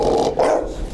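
A bulldog giving a loud bark on command, two close, gruff, growly bursts at close range filling about one second.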